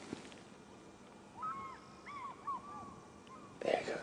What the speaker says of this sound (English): the fish eagle's calling